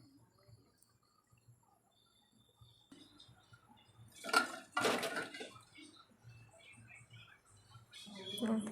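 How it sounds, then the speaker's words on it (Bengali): Prawn and ridge gourd curry being poured from a pot into a big bowl, heard as a short burst of clinking and scraping of metal on crockery with a wet splash, close, followed by quieter handling and someone talking. "ঢেলে নিলাম বাটিতে, বড় বাটিতে।"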